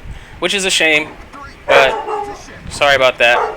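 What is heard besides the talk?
dog barking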